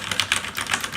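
Rapid keystrokes on the Topre switches of a Cooler Master NovaTouch TKL keyboard, a close, dense patter of soft clacks in quick succession with no talk.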